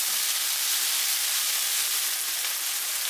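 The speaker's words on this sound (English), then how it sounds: "Flip them over. And grill them for another 30 seconds." Beef pieces sizzling on a hot grill plate, a steady, loud, bright hiss running unbroken throughout with no voices.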